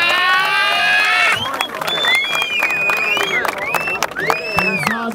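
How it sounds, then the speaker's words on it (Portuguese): Crowd at a freestyle rap battle semifinal in Barueri, São Paulo, claps and cheers loudly, with whoops and shouted voices rising over the clapping and a sustained sung or shouted tone at the start. "Palmas pra essa batalha!"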